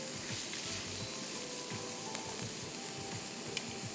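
Onions fry in hot oil until browned for a prawn biryani, giving a dense continuous sizzle up close with occasional soft stirring knocks and no talking.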